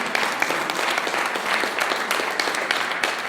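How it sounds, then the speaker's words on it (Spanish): A church congregation claps along together, a dense, lively patter of many hands with rhythmic accents, steady and fairly close for the whole stretch, without voices. "¿Quién le puede dar palmas al Señor?"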